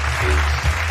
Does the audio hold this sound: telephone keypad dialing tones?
no